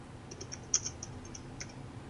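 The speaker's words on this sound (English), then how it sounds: "Who's typing in the background?" Faint clicking of keys being typed on a computer keyboard sits in the background behind a game show, scattered light taps under a low hum with no voices.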